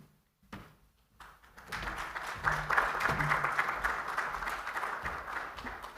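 Seminar audience at a cybersecurity and public safety event breaks into steady applause after a brief quiet start, many hands clapping together in a dense, sustained wash that holds at an even level to the end.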